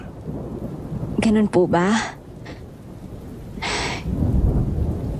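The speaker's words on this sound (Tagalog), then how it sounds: "Hindi ko naman po inakalang uulan ng ganito kalakas." Thunder rumbles under a broad wash of heavy rain during a downpour, with a brief voice speaking over the storm noise partway through.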